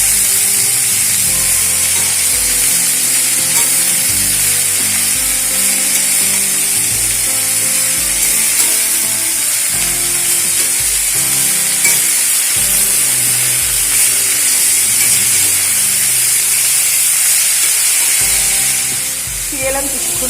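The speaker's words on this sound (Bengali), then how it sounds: "লবণ হলুদ দিয়ে শাকটাকে বেশ কিছুক্ষণ ভালো করে কষিয়ে নেব।" Beto greens sauté in a hot pan with turmeric and salt, making a loud, constant sizzling hiss with stirring scrapes throughout that fades slightly at the very end.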